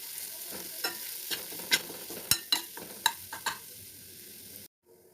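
Ground peas frying in a pan while being stirred: a soft sizzle punctuated by about ten sharp spatula scrapes and knocks, close and fairly quiet, ending abruptly in silence.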